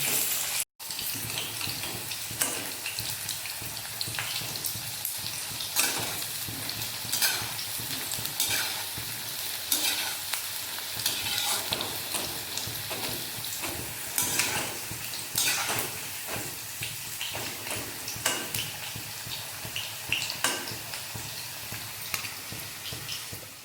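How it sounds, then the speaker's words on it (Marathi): Brinjal and mixed vegetables for undhiyu are sautéed in a pan, a steady sizzle broken by repeated scraping stirs over a long stretch, with no talking. "वांग आपण डायरेक्टली भाज्यांमध्येच परतून घेणार आहोत"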